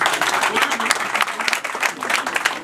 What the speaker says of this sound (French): Je vous prie d'acclamer s'il vous plaît.